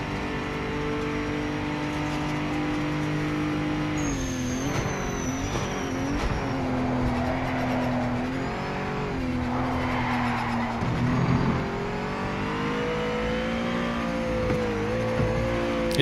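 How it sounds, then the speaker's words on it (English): Race car engine in sixth gear in the game Project Motor Racing: a sustained, droning high-revving tone that dips and climbs through corners, with brief tire squeals and skidding, steady and unbroken, no talking. "Must admit, 6th gear sounds a bit weird."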